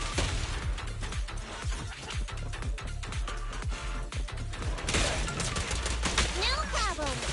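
Rapid bursts of gunfire in the action video game Zenless Zone Zero, dense overlapping shots and impacts with mechanical clatter, loud and continuous, with game sound effects sweeping in near the end.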